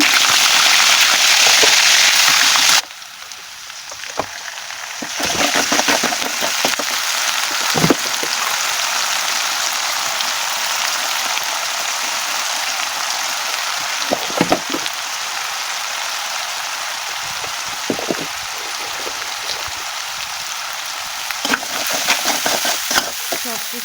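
Fish curry spices sizzle and crackle steadily in hot frying oil, the same oil the fish was just fried in; a loud hiss at the start drops to a continuous close crackle, with occasional sharper pops and stirring sounds.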